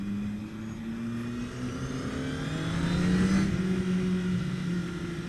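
A 2014 Honda CBR1000RR Fireblade motorcycle engine pulls hard under acceleration, its steady roar climbing gradually in pitch and swelling slightly louder midway, with no voices over it.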